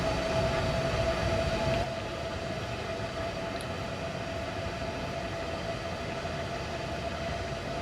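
Class 395 train heard from inside, a steady rumbling rail noise with a faint tonal whine that drops slightly after the first two seconds, continuous and moderately loud.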